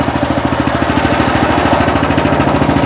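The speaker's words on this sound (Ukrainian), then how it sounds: "Ну, для того, щоб мотоблок зупинити. Я бросив ось цей важіль." Weima Deluxe walk-behind tractor engine running close by, a loud steady single-cylinder chugging with rapid regular pulses and no pauses.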